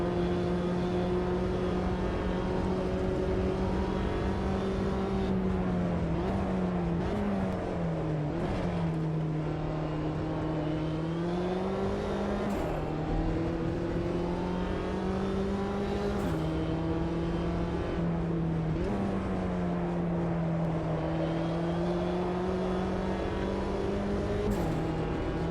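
Mini race cars in the JCW Mini Challenge at Monza in AMS2 hold a sustained engine drone, pitch dipping and climbing with shifts and braking, with a few sharp clicks along the way.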